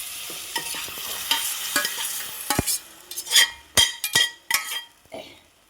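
Sliced onions sautéing in a pan, a soft sizzle broken by a quick run of sharp metal spoon clinks and scrapes against the pan that grows louder and busier toward the end, with no talking.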